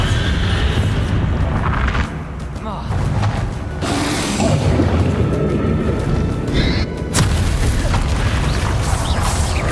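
A Bombardo explosion spell goes off in the video game Hogwarts Legacy, sounding as loud booming blasts with crashing bursts amid continuous combat noise. A voice is heard briefly.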